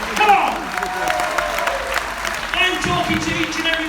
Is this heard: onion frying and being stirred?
no